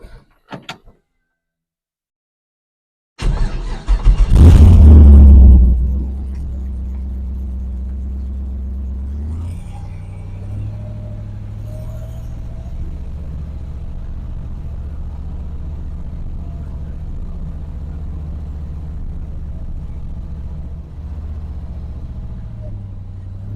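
A 1961 Chevrolet Impala with wheel bearing trouble: a door thump, a loud burst as it gets going, then a steady low engine and road drone continuing while it drives down the road.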